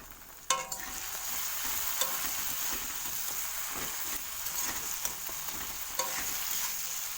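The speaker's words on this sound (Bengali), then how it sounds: "আমার আদা রসুনটা 2 মিনিটের জন্য আমি কষিয়ে নিয়েছি" Ginger, garlic and turmeric powder sautéing in a pan, a dense steady sizzle with regular spatula taps and scrapes against the pan.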